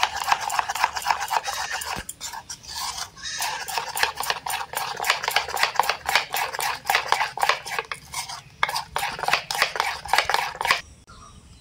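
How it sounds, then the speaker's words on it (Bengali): A spoon briskly stirring spiced batter with red chilli powder and nigella seeds for potol chop, rapid rhythmic clinks and scrapes against the bowl, steady with a few short pauses. "এরপর চামচ দিয়ে ব্যাটারটা ভালো করে গুলিয়ে নেব।"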